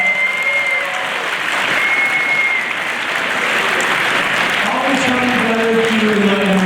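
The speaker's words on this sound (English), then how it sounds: "Give a big round of applause" Sustained audience applause for the musicians at a family talk event, a dense steady wash of many hands clapping that fills the whole stretch, with faint tonal sounds and murmurs mixed in underneath.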